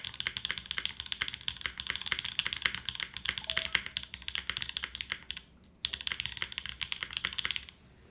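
Rapid, steady clacking of keys on a glass-cased mechanical keyboard, close and crisp, with a brief pause near the end before the typing resumes.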